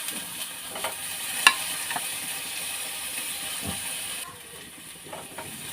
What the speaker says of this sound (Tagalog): Ayan, nagisa na yung natin kamatis.